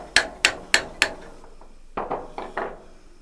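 A hammer strikes a rifle barrel through a small plastic piece while a free-float handguard is fitted: four sharp, evenly spaced knocks, then a pause and four softer, duller taps.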